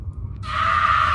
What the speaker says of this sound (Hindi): डोना की चीखें निकल गई